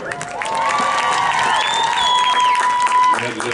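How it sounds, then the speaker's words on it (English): A crowd at a school marching band concert claps and cheers for the color guard, loud continuous applause with whistles and youthful shouts mixed in. "A big round of applause for our color guard."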